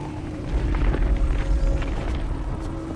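A deep, continuous earthquake rumble from a disaster movie as a fault shifts, with a heavy low roar holding steady and loud throughout, no voices over it.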